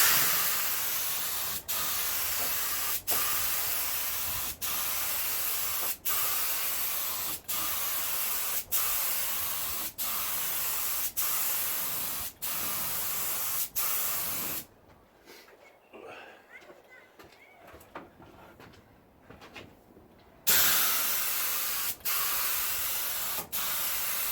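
Aerosol spray can laying down light coats in repeated bursts, a loud steady hiss broken by short gaps, falling quiet briefly midway before spraying resumes; voices are present nearby.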